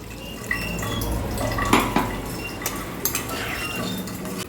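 A cooking pot of potatoes is handled and covered, giving light metallic clinks and clatters with a few sharper knocks over a steady low background hum and faint watery sounds.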